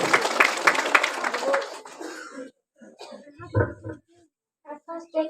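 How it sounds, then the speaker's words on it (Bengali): An audience at a girls' madrasa event claps in a dense burst of applause for a couple of seconds, then it stops and a single voice speaks softly in a quiet room. "এত জোরে হাততালি হবে"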